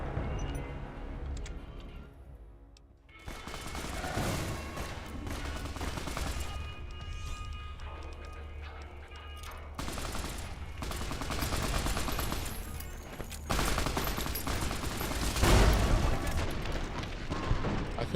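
Dense, loud gunfire fills a Fallout: New Vegas fight, with rapid bursts and heavy booming shots rolling almost continuously after a brief quieter opening.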